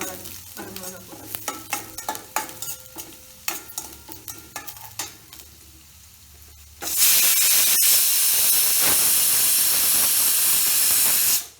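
Dried red chillies hit hot tempering oil for a Kodo millet sambar rice, bursting into a loud, steady sizzle and hiss that fills the second half, after scattered clinks and stirring noises.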